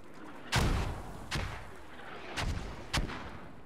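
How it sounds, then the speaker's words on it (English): Mortar fire in the video game Squad lands as four heavy booming blasts at uneven intervals, each with a long rumbling tail that fades under a continuous low background. "Mortars, incredible."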